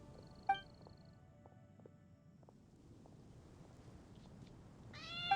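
A cat meows in the Genshin Impact video game, one short cry early on and a second rising meow at the end, over a quiet, faint in-game background with light musical tones.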